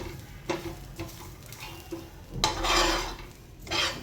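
Grated coconut is dry-roasted on a griddle without oil as a spatula scrapes and stirs in rhythmic strokes about every half second, close and fairly loud.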